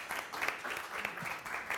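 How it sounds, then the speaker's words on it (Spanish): Audience applause at a civic movements colloquium, steady dense clapping from a seated crowd throughout, moderately loud and uninterrupted, honoring an event coordinator. "yo creo que se merece un merecidísimo aplauso"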